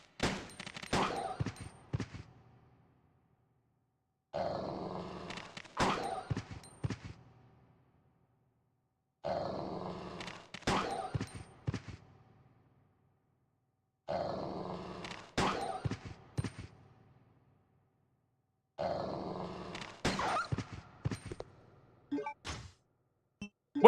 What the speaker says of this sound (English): Ow, fuck these dogs.